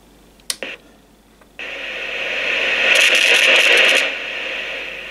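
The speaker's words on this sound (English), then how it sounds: "Very noisy volume control." The noisy volume control on an Amstrad 901 CB radio gives a few sharp crackles, then a rising hiss of static that swells, holds and eases back, close and fairly loud.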